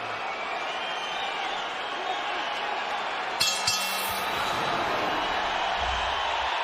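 Boxing arena crowd before Marco Antonio Barrera vs Juan Manuel Marquez, a steady distant roar of many voices with a few sharp clinks partway through, under low commentary.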